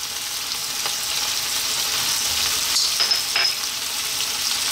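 Garlic ginger paste hits hot oil in a pan and sizzles loudly and steadily, a bright continuous frying hiss with a few stirring scrapes and no talking.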